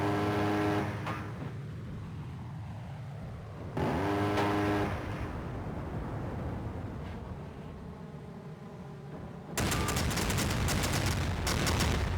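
An A-10 attack in the video game Armored Brigade II, heard as a loud continuous roar of jet engine and rumbling fire with tonal whines, swelling into a dense burst of rapid cannon fire near the end.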